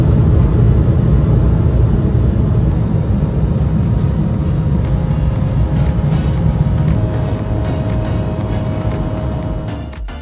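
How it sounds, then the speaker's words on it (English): A SkyWest United Express regional jet takes off from runway 25 right at LAX, its engines giving a loud, steady roar heard from inside the cabin that slowly fades toward the end. "SkyWest 5867, runway 25 right, clear for takeoff"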